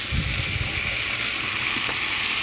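Ground turmeric, coriander, chili powder, salt and garam masala frying in a pan, a steady close sizzle with faint stirring clinks and no voices.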